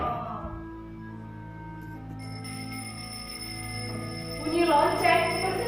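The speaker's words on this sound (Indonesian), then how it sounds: "Bunyi lonceng" Sustained ringing bell tones with long, steady overtones hold throughout, joined near the end by a brighter burst of voices or sound.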